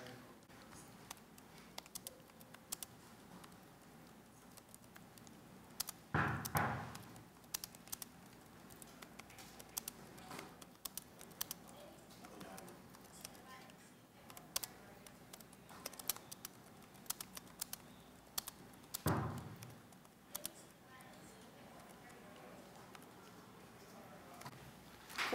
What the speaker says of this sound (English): Next, you type out your message.